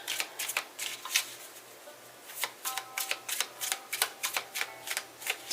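Tarot cards are shuffled by hand close up, a quick series of crisp riffling bursts repeating in an uneven rhythm over a faint low hum.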